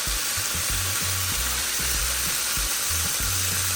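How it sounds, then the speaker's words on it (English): Saltfish stirred with black pepper in a hot pan, a steady broadband sizzle of frying with rhythmic scraping strokes of the spoon throughout, close and fairly loud, no talking. "So stir it up."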